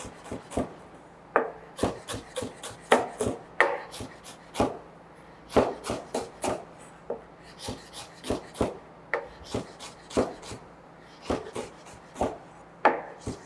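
Sharp knife strokes cutting fresh, pre-washed parsley finely on a board, a steady series of crisp taps and rubs in uneven bursts, close and clear with no talk.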